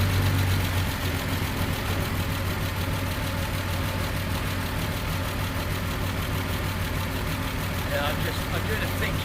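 Triumph TR6 engine idling roughly with its number 1 cylinder misfiring, a steady uneven mechanical drone beneath someone talking.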